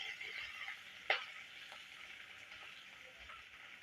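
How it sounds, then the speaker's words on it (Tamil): Chopped onions and shallots fry in a pan for chutney, giving a faint, steady sizzle with one brief scrape or stir just after the first second. "கொஞ்சம் சின்ன வெங்காயம் அதையும் சேர்த்துக்கிறேன்."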